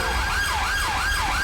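A police siren from a GTA 5 British police mod wails loud and close, rising and falling in a steady repeating sweep of about three cycles, with engine rumble underneath and no talk.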